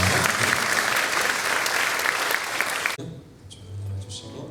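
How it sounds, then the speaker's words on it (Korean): Audience applause at a university president's inauguration thanksgiving service, a full round of clapping for about three seconds that cuts off abruptly, leaving quiet room tone and faint voices. "우리 큰 박수 한번 부탁드려보겠습니다"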